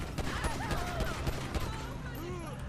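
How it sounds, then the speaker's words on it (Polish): Gunfire in the video game GTA V during an LSPDFR police mod session, a burst of sharp shots in quick succession within a noisy game mix, with a voice talking over it. "oddano strzały"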